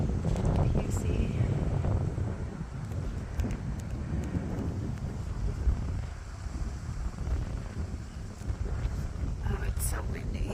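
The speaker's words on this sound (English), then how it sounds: "it's so windy" Gusty wind on a hilltop overlooking Hibbing, Minnesota buffets the microphone with a low, roaring rumble that rises and falls throughout.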